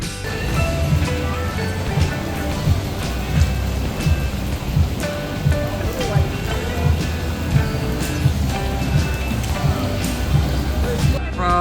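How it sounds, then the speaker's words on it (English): Pouring rain outdoors in Oklahoma, a steady dense hiss and patter that runs unbroken the whole time, with muffled voices now and then beneath it. "In the Oklahoma pouring rain."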